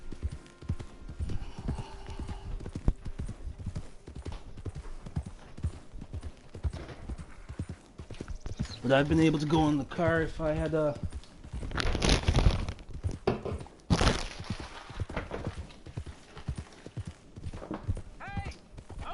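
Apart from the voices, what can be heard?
horse hooves clip-clop while riding, from video game Red Dead Redemption 2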